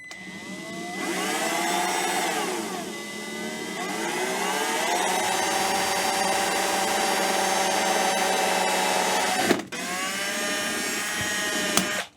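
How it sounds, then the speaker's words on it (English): A power drill whines steadily for several seconds, its pitch shifting as it bores a hole into a wooden ukulele body, with a brief break and restart near the end as the drill bit breaks. "I'm going to start by drilling the hole back here first."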